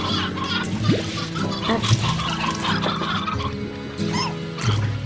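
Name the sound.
chick clucking in video game Slime Rancher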